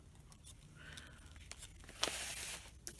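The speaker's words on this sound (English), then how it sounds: "I come in with the tip of the scissors and I just kind of cut it from the corner and make a V shape and pull that out." A scissors tip snips into a sheet of paper at the corner, cutting a V shape before the piece is pulled out, heard as a few close, soft crisp snips and a brief rustling tear, fairly quiet, with no talking.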